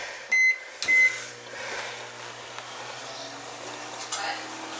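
Butter heating in a microwave oven, short bursts at a time: a couple of sharp clicks or beeps at the start, then a steady low hum of the running oven throughout.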